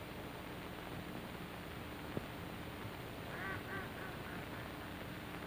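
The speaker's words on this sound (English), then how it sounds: "Look at those ducks." Ducks quack faintly in a short run of nasal calls, heard distantly beneath steady hiss on an old film soundtrack.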